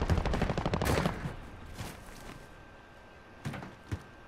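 Rapid bursts of automatic gunfire in a battle royale video game, dense and loud at first, then trailing off into a few scattered, fainter shots with no talk.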